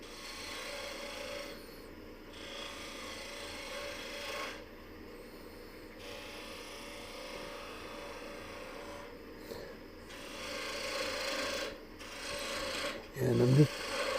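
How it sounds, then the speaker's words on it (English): A spindle gouge cutting an acacia wood coffee scoop on a woodturning lathe, with a continuous raspy scraping hum that rises and dips as the tool moves, plus a few brief pauses and a knock near the end. "using the spindle gouge here to shape it."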